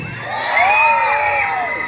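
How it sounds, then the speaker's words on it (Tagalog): An audience at a pageant-style candidate introduction cheers and whoops loudly, a sustained burst of overlapping shouts from the crowd lasting almost two seconds. "Wala po bang malakas na hiyawan dyan?"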